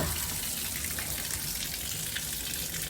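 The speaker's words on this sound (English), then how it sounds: "So I'm going to try to drain that water out." Water rushes steadily out of freshly cut well pump hoses, a constant loud hissing gush that runs on without a break.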